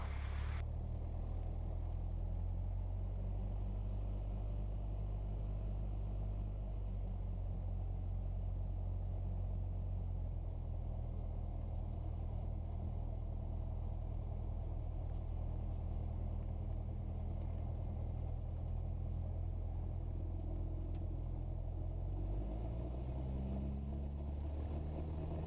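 A light training aircraft's piston engine drones steadily during the takeoff roll on runway 24, a constant low rumble with cabin noise that shifts in pitch near the end.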